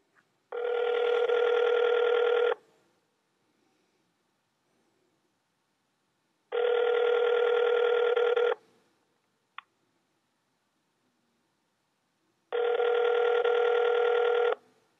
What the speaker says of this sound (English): we're going to ring his number now, see what we can get here